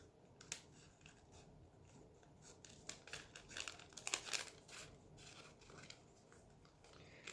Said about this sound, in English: cut the extra paper off